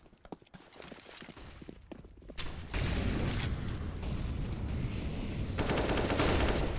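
Gunfire from Counter-Strike on the Train map during a professional match: a sparse, quiet opening of scattered shots builds into loud, dense, sustained bursts of rifle fire with mechanical clatter, continuous and close.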